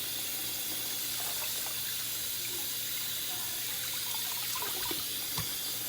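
Cold tap water runs steadily into a sink while fish is cleaned for Jamaican brown stew fish, a continuous hiss and splash with occasional small clatters.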